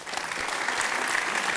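Studio audience applause on a Serbian TV talk show, dense even clapping filling the room at steady loudness with no voices over it.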